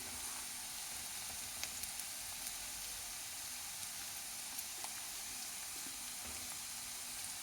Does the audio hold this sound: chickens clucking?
no